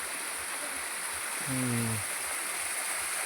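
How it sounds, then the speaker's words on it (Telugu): A small village waterfall, fed by rain from above, makes a soft, steady rushing hiss. A brief tonal sound cuts in near the middle. "చూడండి వాటర్ ఫాల్స్ ఇక్కడ మా ఊరు వాటర్ ఫాల్స్ అన్నమాట"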